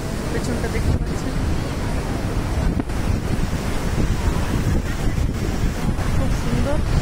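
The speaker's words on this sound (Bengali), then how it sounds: "বিচের প্রচন্ড ঢেউ," Strong ocean waves at Bheemili beach in Vizag roar continuously up close, with heavy wind buffeting the microphone and a few brief dips in the wash.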